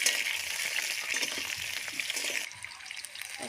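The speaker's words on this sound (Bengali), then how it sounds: "এখন আমি ভালো করে যে আলুটা ভেজে নেবো" New potatoes fry in a pan with a steady, close, hissing sizzle that runs unbroken and then eases to a quieter crackle near the end, with no talking.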